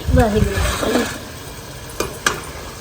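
Vegetables hit a hot pan with a short burst of sizzle and stirring clatter near the start, a voice talking over it, then a quieter steady frying hiss with two light utensil knocks.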